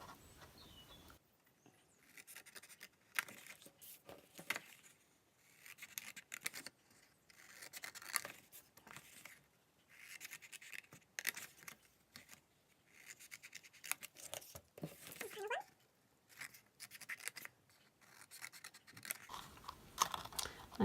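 Scissors snip through card stock to cut off square pieces, producing a steady run of close, crisp cuts and rustling scrapes that repeat across the whole stretch with no talking.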